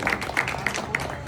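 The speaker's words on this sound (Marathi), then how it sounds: "त्यांच्यासाठी सर्वांनी जोरदार टाळ्या वाजवाव्या" An audience at a kirtan and Dnyaneshwari recitation gathering in Dehu claps for a bhajan singer, giving brief rhythmic applause in a reverberant hall with a voice faintly underneath.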